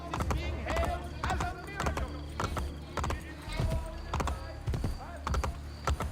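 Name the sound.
horse galloping in Assassin's Creed Brotherhood video game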